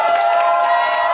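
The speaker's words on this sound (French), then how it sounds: "Quelqu'un peut pousser des cris de joie pour applaudir notre bien-aimé" A wedding congregation at a nuptial blessing cheers and applauds in a short, loud burst, with sustained voices and clapping blended together.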